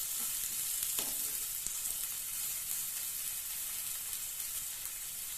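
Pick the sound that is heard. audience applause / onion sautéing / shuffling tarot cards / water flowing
onion sautéing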